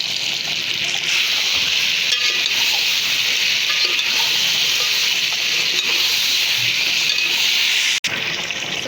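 Ginger garlic paste sizzles and fries in a pan for a chicken biryani, with steady close crackling and occasional stirring scrapes, with no one talking.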